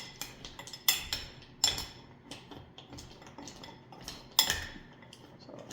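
Melting chocolate stirred in a pot, a utensil clinking and scraping against the metal in irregular strokes with a few sharper knocks, fairly quiet and close.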